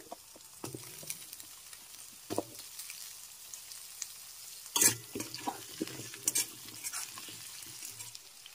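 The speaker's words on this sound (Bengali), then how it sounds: "আলু একটু ভেজে নিতে হবে।" Potato pieces frying with onions in a pan, a low steady sizzle broken by scattered scraping stirs and clinks of a spoon, close and fairly quiet with no talk.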